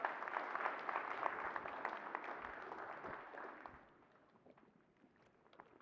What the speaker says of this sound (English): I want to hear a round of applause.